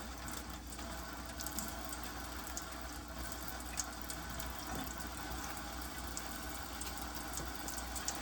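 Running tap water pours steadily into a sink while a cleaned item is rinsed during decontamination, an even close rush with occasional small knocks and no speech.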